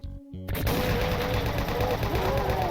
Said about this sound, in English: I've got the chain gun, which I'm assuming is superior in just about every way.